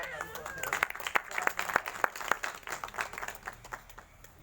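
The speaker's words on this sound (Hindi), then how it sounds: "उनके लिए एक बार जोरदार ताली थोड़ा सा बजाएं" Audience applause at a promotional gathering in Gaya, Bihar, honoring a man named Naveen: scattered, uneven clapping from a small crowd, steady through the clip with sharp individual claps standing out.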